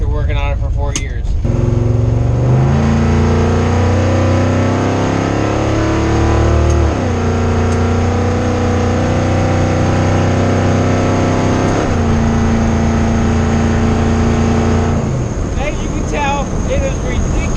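A restored 1978 Ford F-150 pickup's very loud engine revs hard while driving, its droning pitch climbing and dropping through several gear changes in a sustained roar heard up close from inside the cab.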